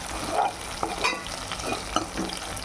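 Onions sizzle in hot oil in a pan for a homemade chicken fry and are stirred browner, with brief scraping and clattering strokes over a steady close crackle.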